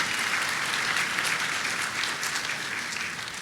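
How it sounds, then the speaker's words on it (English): Applause from an audience at a summit event fills the space continuously, a dense steady wash of many hands clapping with no voices rising above it. "Please give them a round of applause."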